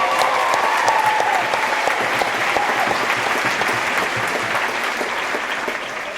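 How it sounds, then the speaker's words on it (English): Sustained applause fills a commencement ceremony hall, a large audience clapping loudly at first before the sound slowly tapers toward the end. "Please give all these amazing people a huge round of applause"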